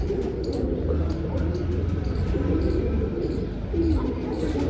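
Pigeons coo in low, repeated murmurs against a constant outdoor rumble, steady and moderately close throughout, with faint chirps and a voice now and then in the background.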